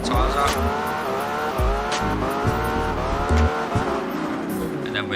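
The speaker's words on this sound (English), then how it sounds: "Let's warm them back tyres up" A car spins its rear tyres beside a motorway to warm them, the engine revving hard in repeated bursts while the tyres squeal and skid, loud and close.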